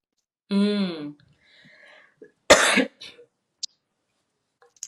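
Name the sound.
sneeze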